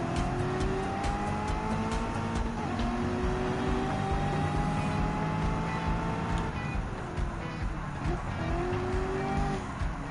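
Race cars in Gran Turismo 7, including a Nissan and a Jaguar F-Type, run through a custom race. Their engines drone loud and steady and rise and fall in pitch as they shift gears, with occasional tire squeal.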